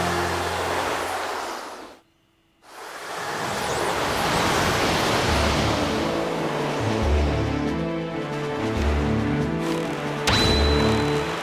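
A boat sails across the ocean in The Legend of Zelda: The Wind Waker HD, with a steady rush of wind and water over low game music, interrupted by one brief silent gap near the start.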